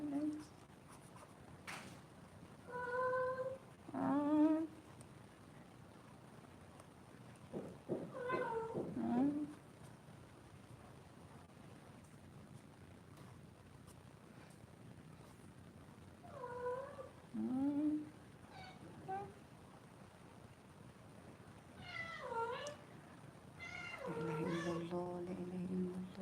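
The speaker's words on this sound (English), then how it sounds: "Do you know anyone who wants to adopt a cat?" A cat meows repeatedly, about six drawn-out, wavering cries spaced several seconds apart, fairly close in a quiet room with faint scratching of coloring between calls.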